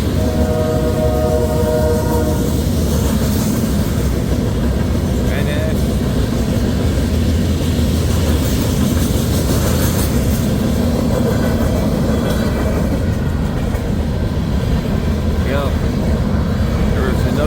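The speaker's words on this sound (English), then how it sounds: "Both of these trains are heading east." Eastbound freight trains rumble past continuously and close at the start of a blizzard in Missouri Valley, Iowa, with horn blasts early on and a voice talking over the steady roar.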